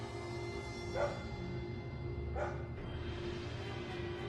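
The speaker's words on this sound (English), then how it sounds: "Dog just went crazy for no reason." A dog barks twice, about a second and a half apart, fairly faint against a steady droning hum in the background.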